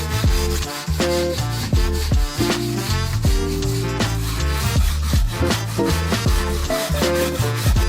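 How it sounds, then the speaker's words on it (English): Steel wire brush scrubbing weathered old scaffold board timber, a steady abrasive rubbing that runs continuously and fairly loud, with tonal music playing underneath throughout. "I'm going to use a wire brush just to clear that out"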